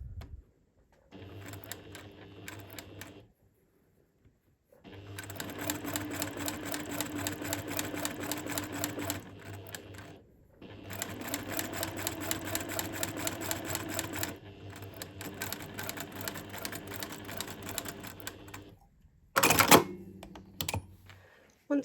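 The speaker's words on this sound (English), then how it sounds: "sew with a 1/4 inch seam allowance" Domestic sewing machine stitching a quilt block with a quarter-inch seam, running in steady bursts of rapid mechanical whirring with short pauses between seams, close and clear, then a brief louder clatter near the end.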